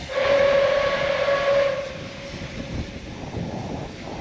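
A diesel train hauling wagons sounds a loud, sustained horn tone for about a second and a half, then rumbles and clatters steadily past at close range.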